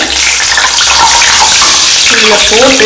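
Medu vadai going into a bowl of plain water in a kitchen, heard as a loud, constant close-up rush and slosh of water that shifts slightly in the last moments.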